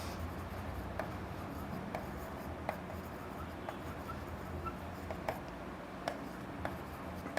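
A pen or chalk scratches across a classroom board in a steady rub, broken by small sharp taps at irregular intervals, close and alone without talk.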